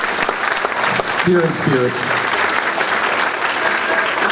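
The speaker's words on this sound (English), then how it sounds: "A round of applause for my student teacher." Concert audience at a school spring concert applauding a student teacher, loud sustained clapping from a crowd throughout, with a brief spoken phrase heard over it.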